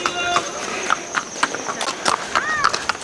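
Horses on the trail at Sinhagad Fort during a monsoon trek: light, intermittent hoof clip-clops in open air, with nearby people talking over them.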